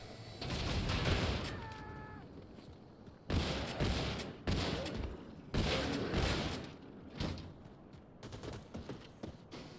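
Rapid bursts of automatic gunfire from a first-person shooter set in Wolfenstein 2, loud and dense, in several volleys separated by brief pauses, with a short mechanical tone partway through and trailing shots near the end.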